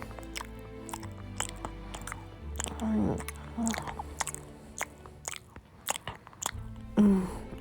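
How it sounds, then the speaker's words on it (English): Waffles being chewed with the mouth open, with repeated wet, squishy bites and crunches close to the mic at an uneven pace, and a few short vocal sounds between them. "Chew with your mouth closed"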